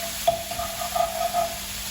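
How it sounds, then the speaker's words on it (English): Egg scrambled in a frying pan for keto cauliflower fried rice, a soft steady sizzle broken by short scraping stirs, close and moderately quiet. "Slowly I will start scrambling it inside the pan, just like that"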